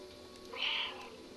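A cat in the video game Stray gives a single clear meow in the middle, fairly close and distinct over a quiet ambient game background.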